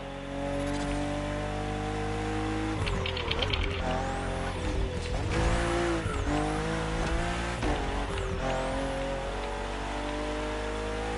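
A BMW CSL in the racing game The Crew Motorfest roars loudly and steadily, its engine note rising and dropping through gear shifts with bursts of tire squeal as it drives hard.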